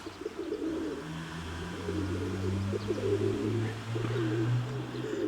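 Pigeons gathered at a dovecote coo in low, overlapping rolls, a continuous close chorus with faint chirps and outdoor background.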